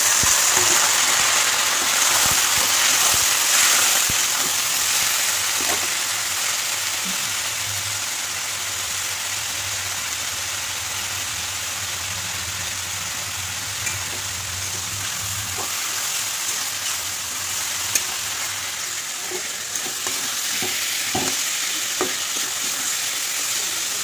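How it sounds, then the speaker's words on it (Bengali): Potatoes fry in a pan with a loud, continuous sizzle and occasional stirring scrapes, heard close and alone without speech. "তার জন্য আলুটা একটু ভেজে নিয়ে আগে।"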